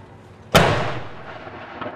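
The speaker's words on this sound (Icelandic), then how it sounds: "í tilefni dagsins var skotið úr fallbyssum við Edinborgar kastala" A single heavy cannon blast from a salute fired at Edinburgh Castle booms out suddenly and rolls away in a long, fading reverberation across open air.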